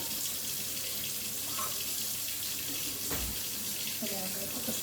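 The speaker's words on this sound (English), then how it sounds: "Just going to run the water till" Kitchen tap water runs steadily into a sink, a constant close rushing stream with a faint clunk partway through and no talking.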